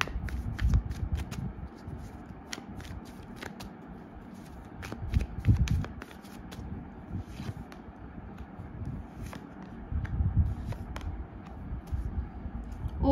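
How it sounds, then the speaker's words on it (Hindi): Tarot cards are shuffled and drawn by hand, with repeated soft riffling swishes and sharp card flicks at an uneven pace, close and fairly quiet throughout. "so let's take out few more cards"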